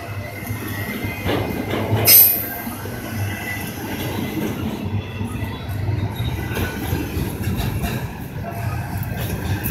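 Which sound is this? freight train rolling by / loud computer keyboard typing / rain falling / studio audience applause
freight train rolling by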